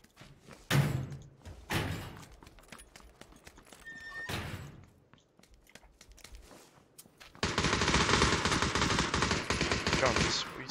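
Gunfire in a shooter video game with M16 and M4 rifles: scattered sharp shots early on, then a long loud sustained burst of rapid automatic fire near the end.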